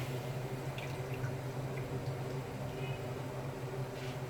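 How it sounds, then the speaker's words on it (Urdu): About a cup of cooking oil poured into a pressure cooker pot for beef nihari, a soft liquid trickle and drip under a steady low kitchen hum, with no talking. "سب سے پہلے ایک پیالی بھر کے قریب آئل جائے گا"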